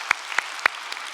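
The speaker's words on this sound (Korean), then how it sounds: "우리 박수로 한번 격려해 주시길 바랍니다." A few separate, sharp hand claps ring out from a church congregation applauding its youth-group teachers during a Sunday service, sparse and spaced apart in a quiet room.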